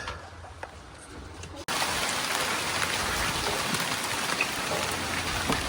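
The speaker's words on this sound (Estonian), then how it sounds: "Jube vihmane on siin kõik." Rain falls steadily outdoors, its dense patter on surfaces close and constant. The rain is muffled at first, then grows suddenly louder and clearer as if a door opened, and it carries on without a break.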